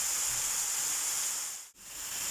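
Red pepper added to hot oil with onions in a frying pan, a loud steady hiss of sizzling that briefly cuts out before resuming, close by and without voices.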